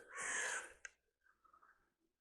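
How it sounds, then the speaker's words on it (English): A crow gives one loud, close caw, followed by a brief knock and softer faint sounds as the call fades to near silence. "that's a crow"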